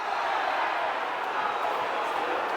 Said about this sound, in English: Crowd howling for a foul on Saville, not getting it